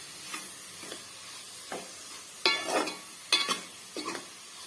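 Carrot rice with masala being stirred in a pan, giving a few soft scraping and stirring strokes with a faint sizzle underneath, fairly quiet and spaced irregularly, with no talking.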